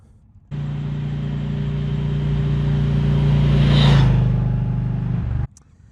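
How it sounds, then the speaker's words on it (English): A 2021 Indian Scout base-model motorcycle engine starts and runs with a steady mid-pitched rumble, rising in a brief rev near the end before cutting off abruptly; no talking. "we're going to ride a 2021 Indian Scout"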